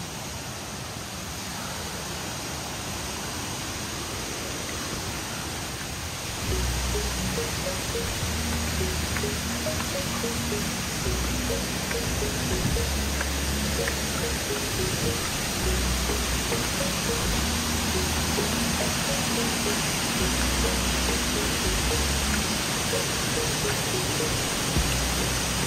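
Bega Falls pours in a steady, dense rush of falling water that grows louder and fuller partway through, continuous roaring with no voices.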